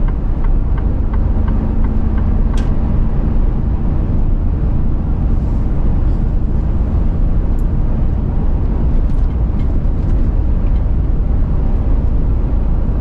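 A vehicle cruises along a road, a steady, loud, low rumble of engine and tire noise heard from inside without a break.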